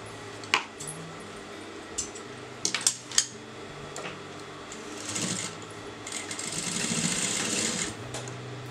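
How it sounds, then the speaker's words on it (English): A sewing machine stitches along the outer edge of fabric with bursts of quick mechanical chatter, separated by sharp clicks and handling taps, and a longer run of whirring stitching near the end. "I'm going to sew to the outer edge of the fabric."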